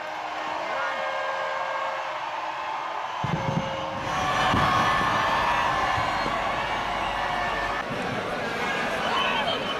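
A crowd greets the New Year at midnight at CSMT station in Mumbai with sustained cheering and whooping that swells after a few seconds and stays loud and dense, mixed with chatter and overlaid by a reporter's voice.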